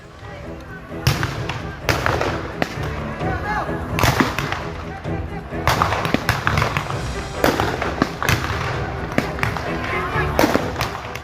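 Firecrackers and molotov cocktails burst during a night street brawl between youth groups in a public cemetery area in Jatinegara, East Jakarta, with repeated sharp bangs and cracks at irregular intervals over background commotion and shouting voices.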